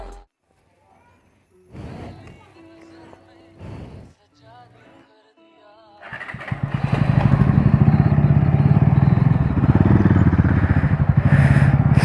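Motorcycle engine noise comes in bursts during the first seconds, mixed with voices and clatter, then the bike gets underway and a loud, steady, rattling engine drone runs close by through the second half of the ride.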